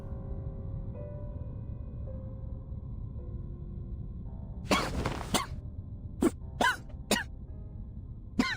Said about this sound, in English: Hoffman coughs up a mouthful of blood